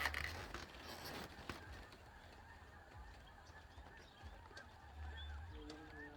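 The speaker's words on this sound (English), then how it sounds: "Look at those geese." Geese honk in scattered calls across a marina slough in the Delta, with a few brief voices and low background rumble around them.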